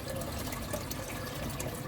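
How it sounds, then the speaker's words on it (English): Water poured into a pot of rice while cooking Persian Loobia Polo, a soft continuous pouring and trickling, fairly quiet and close, with no voices. "Add a little bit more water,"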